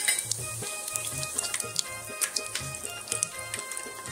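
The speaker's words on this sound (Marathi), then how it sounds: "चरबीने पूर्णपणे तेल सोडलेलं आहे, त्यात आपण 1/2 चम्मच हिंग टाकून घेऊ, खडे मसाले टाकून घेऊ" Asafoetida and whole spices sizzle in hot rendered mutton fat for an Agri-style mutton curry, a steady close crackling fry with small pops throughout.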